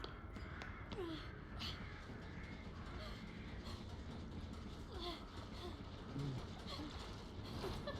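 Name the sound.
crows cawing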